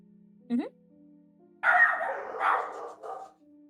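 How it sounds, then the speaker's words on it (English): Dogs bark a few times nearby, a short yip followed by a couple of rougher barks, over a low steady hum in a quiet room. "my dogs are barking too"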